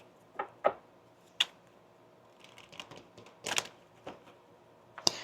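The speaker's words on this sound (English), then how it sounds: "I just noticed how the cards were shuffling." A tarot deck is shuffled close up, with faint, scattered card snaps and riffling flicks coming in irregular bursts against a quiet room background.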